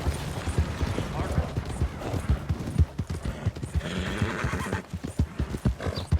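In Red Dead Redemption 2, rhythmic hoofbeats clip-clop steadily while a horse whinnies, with a person talking over the sounds throughout.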